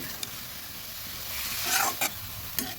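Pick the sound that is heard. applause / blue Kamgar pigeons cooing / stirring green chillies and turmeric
stirring green chillies and turmeric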